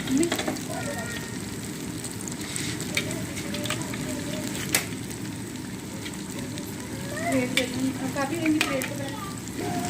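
Chana dal pajeeri pieces browning in oil in a kadhai and being turned over, a soft steady crackle with scattered bubbling pops and a few clinks, with a voice speaking under it.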